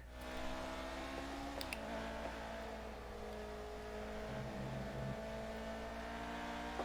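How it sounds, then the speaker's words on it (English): F1 car from the F1 2019 video game holds a high, steady engine whine under hard throttle, with a brief gear-change blip; continuous and prominent, no talking. "I just put way too much onto that gas there."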